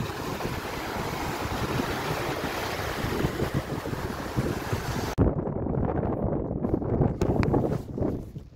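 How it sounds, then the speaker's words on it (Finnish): Waves on a lake around a rowing boat out on open water, a steady rushing wash with strong wind buffeting the microphone, broken by a sudden knock partway through, after which choppy splashes continue close by. "Komea aallokko on täällä."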